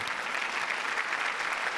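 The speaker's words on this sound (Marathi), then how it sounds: "जोरदार टाळ्या अरुण काकांसाठी." A studio audience at a Marathi comedy show claps steadily, a dense, even wash of applause throughout with no pauses or speech standing out.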